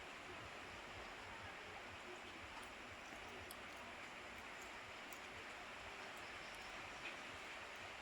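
Small pieces of batter dropped into hot oil on a stove, giving a steady, even hiss and crackle of frying that continues throughout at moderate loudness.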